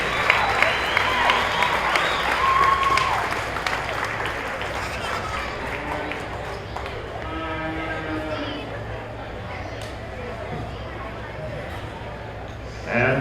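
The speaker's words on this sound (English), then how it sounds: "Let's give them a round of applause as they head on out the door." Audience applause for goat exhibitors leaving the show ring at a county fair 4-H livestock expo, a crowd's clapping swelling in a busy barn with an announcer's voice and background chatter mixed in before fading.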